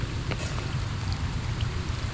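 Heavy rain falling at an outdoor fish pond in the Philippines, a steady dense roar of rainfall with low rumbling, continuous and close throughout, with no voices.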